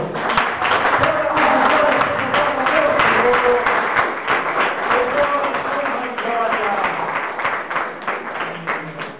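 A church congregation applauds during a worship service, a dense, steady wash of clapping that continues for the whole stretch, with voices mixed into the sound.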